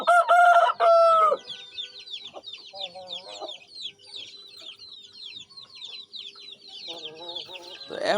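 Aseel chickens at a home coop: a rooster crows loudly and close at the start, then a dense stream of high peeping from chicks runs throughout while hens cluck in short bursts in the middle and near the end.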